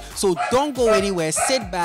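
Someone talks in the foreground at a Cane Corso kennel in Ghana while the dogs bark and yip faintly in the background, several short barks scattered under his voice.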